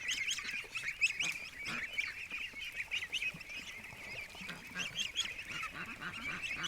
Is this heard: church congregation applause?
no